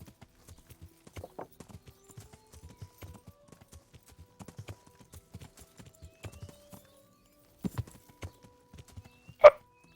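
Horses at a horse trader's in the medieval game Kingdom Come: Deliverance, with scattered clip-clop hoofbeats on hard ground, mostly soft and irregular, a few louder stamps near the end and a short snort or whinny.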